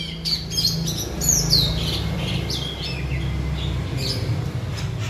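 A kolibri ninja songbird sings a lively string of chirps, squawks and whistled phrases mimicking other birds, close and clear over a low background hum.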